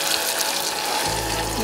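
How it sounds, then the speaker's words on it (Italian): Water is poured into a pan of sautéed tomatoes with oregano for a cannellini bean soup: a steady, close rushing pour, with a low sizzling hum rising underneath toward the end. "ci aggiungeremo dell'acqua"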